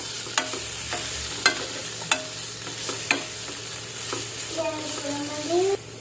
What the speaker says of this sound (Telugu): దాన్ని ఇలా మంచిగా ఫ్రై చేసుకోవాలన్నమాట